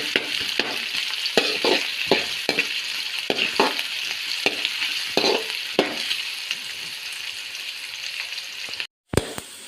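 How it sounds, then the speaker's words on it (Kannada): Sliced onions fry in oil for a chicken curry, giving a constant bright sizzle with repeated scraping clicks from a spoon stirring the pan, then a brief gap of silence before one last knock. "ಈರುಳ್ಳಿ ಚೆನ್ನಾಗಿ ಫ್ರೈ ಆಗಬೇಕು."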